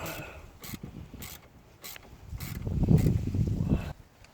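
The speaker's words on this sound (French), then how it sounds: "Après, on va serrer avec la dynamométrique en couple." A torque wrench tightening a front shock absorber bolt on a Renault Scénic 2, with several sharp, evenly spaced ratcheting clicks over a low mechanical rumble, close by.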